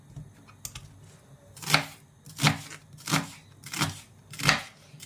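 A knife chops onions on a cutting board for a Swiss chard dish: about five crisp, evenly spaced strikes, close and distinct, with a faint light tap before them.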